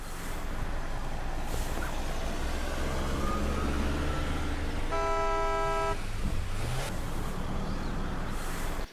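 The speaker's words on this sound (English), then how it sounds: "being in a house hearing the traffic outside" Busy street traffic with car horns set into a music track: a steady dense roar of passing vehicles, with a sustained horn blast near the middle and scattered honks and toots, continuous and loud throughout.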